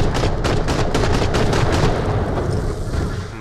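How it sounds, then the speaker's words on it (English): Grenades going off in the shooter game Borderlands, a loud, dense barrage of rapid overlapping blasts and gunfire that rolls on without a break. "I'm going to throw grenades."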